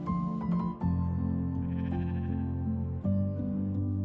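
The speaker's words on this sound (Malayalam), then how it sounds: "കൊറേ ആടുകള്." A herd of goats in Sethan village in the Himachal hills bleats steadily and close by, several animals calling at once in overlapping, drawn-out cries with brief gaps, and no talking.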